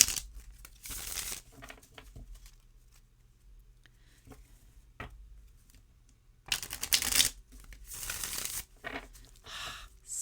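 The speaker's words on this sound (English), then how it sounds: "Let's have a shuffle." A Hermetic Tarot deck being shuffled by hand, with bursts of crisp riffling and card flutter separated by quieter gaps of soft handling, heard up close.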